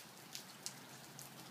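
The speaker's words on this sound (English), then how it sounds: "Nice steady rain." Steady heavy rain in Sun Lakes, Arizona, heard faintly as a soft hiss with a few sharp individual drops ticking nearby.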